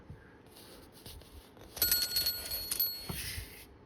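Metal bell on a Super 7 Godzilla toy cycle, rung a few times close by in a quick cluster of bright, ringing dings that hang briefly before fading.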